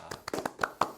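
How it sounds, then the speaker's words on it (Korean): A few sparse, uneven hand claps from a small webinar audience, close and quick, lasting only a moment with no speech. "박수 부탁드립니다."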